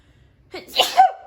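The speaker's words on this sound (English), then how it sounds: "I have to sneeze." One sharp, loud sneeze up close, with a quick breath in just before it.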